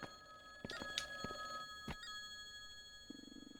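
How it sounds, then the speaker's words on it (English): Telephone rings in the horror game Lake Haven - Chrysalis, a couple of short electronic bursts over a steady tonal hum, followed by a low buzzing pulse near the end. "Phone is ringing."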